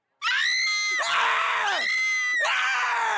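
Mortified screaming from a scene in an animated cartoon: loud, shrill, continuous screams with brief breaks, rising again in fresh bursts, close and unbroken by speech.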